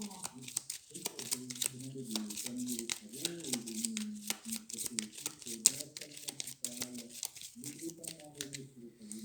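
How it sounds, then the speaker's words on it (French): Cards from the Shadowrun Crossfire Prime Runner Edition board game being shuffled by hand, a steady run of papery riffles and flicks lasting several seconds beneath continuous French talk. "Toi tu n'as plus de carte à tirer, donc tu vas mélanger, tirer une carte en espérant tomber sur une carte assist."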